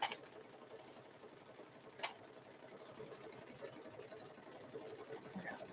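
A sewing machine runs steadily while back stitching a quilted Grinch handbag, a soft continuous mechanical whir with faint ticking and a couple of brief sharp clicks.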